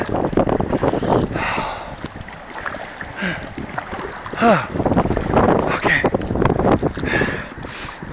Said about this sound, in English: we still got the wind going against us